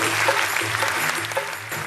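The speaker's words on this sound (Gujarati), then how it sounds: "એટલે સમગ્ર કવિઓ સમાજના જે હોદ્દેદારો છે એ બધા માટે ખૂબ જોરદાર તાળીઓ થવી જોઈએ." An auditorium audience at a Gujarati folk literature program applauds with dense, steady clapping that fills the room, loud and sustained throughout.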